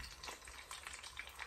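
An egg fries in hot bacon fat, crackling and sizzling with a bright, steady hiss and scattered pops close up in the pan.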